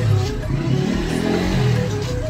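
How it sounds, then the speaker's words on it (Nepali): An old, worn-out motorcycle engine revs up close in short, rough bursts, its uneven throaty rumble rising and falling over about two seconds. "खाली यस्तो गर्छ यो बाइक, यस्तो गर्छ यो।"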